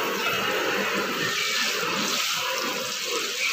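Water poured steadily into a pressure cooker holding marinated mutton chops, a continuous close splashing wash that stays even throughout, with no talking.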